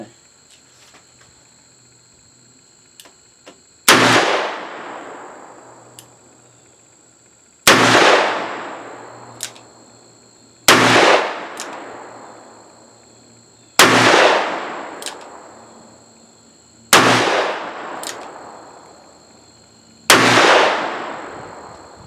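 Six loud gunshots from a Smith & Wesson 686 revolver firing old ammunition, spaced about three seconds apart, each a sharp crack with a long ringing decay, over a faint steady insect-like hum with no talking.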